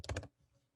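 A brief burst of a few close keystrokes on a computer keyboard, quickly clicked together and then falling silent.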